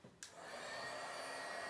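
An embossing heat tool switches on with a brief click and settles into a steady, close, airy whoosh while a greeting card is heat-embossed, with no talk.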